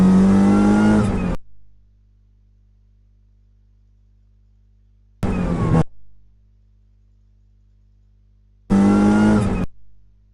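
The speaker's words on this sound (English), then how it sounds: "as soon as you hear the throttle come off and the clutch go down, the rev's obviously going to drop" A track car's engine revs in three separate bursts, each loud and close, then drops away sharply as the throttle lifts, with silent gaps between the bursts.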